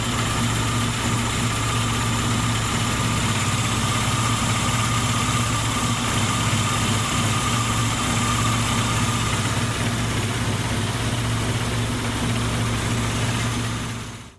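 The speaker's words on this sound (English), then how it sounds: "You can hear that the idle speed has decreased" A car engine idles steadily on a rolling road dyno after an ignition timing adjustment, giving a loud, continuous mechanical hum with a constant low drone and no speech throughout.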